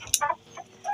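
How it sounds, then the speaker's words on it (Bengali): Chickens, roosters among them, on a farm keeping Indian and Australian breeds cluck in quick close bursts, with several short calls overlapping within a second. "এগুলো তো সব মোরগ।"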